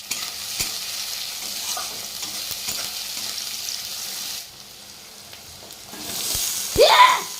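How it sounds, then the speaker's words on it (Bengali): Potatoes frying in a pan for a meat curry, with a steady moderate sizzle and scattered utensil clicks and stirring scrapes. The sizzle drops quieter partway through, then swells again with a louder metallic clatter near the end. "মানে মাংসের আলু ভাজা বসিয়েছি।"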